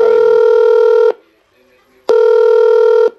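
A conference call line sounds two loud, steady electronic tones, each lasting about a second, separated by a short pause of near silence.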